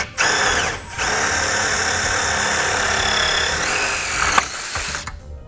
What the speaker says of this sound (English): So now we have all our holes drilled.